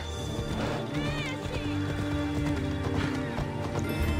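Horse galloping while ridden in Assassin's Creed Odyssey: rapid, continuous clip-clop of hooves with a brief whinny, set against layered game ambience and music.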